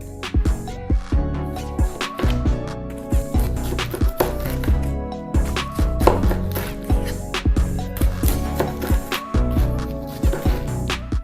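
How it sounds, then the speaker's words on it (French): A knife cuts the skin off a whole pineapple with repeated firm strokes, close and fairly loud, each slice a crisp fibrous crunch or thump in a steady uneven rhythm. "Donc pour préparer un ananas, c'est tout simple. On va le peler à vif avec notre couteau."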